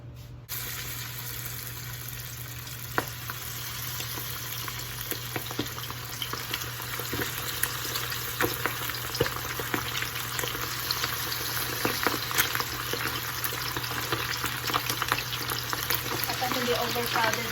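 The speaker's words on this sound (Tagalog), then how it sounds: "Ngayon, magpiprito na tayo." Chicken wings deep frying in hot oil in a crowded pan for crispy honey garlic wings, a steady dense crackling sizzle with occasional sharper pops, close and continuous throughout.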